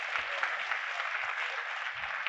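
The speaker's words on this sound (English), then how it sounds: "Another round of applause for Puranak and Sayang." Dense, steady applause from a large audience at a corporate innovation event, a continuous even wash of many hands with no voices over it.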